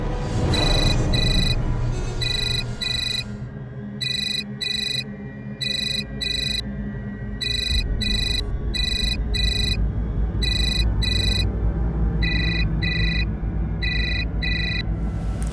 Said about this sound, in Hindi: ये विक्रम फ़ोन क्यों नहीं उठा रहे हैं?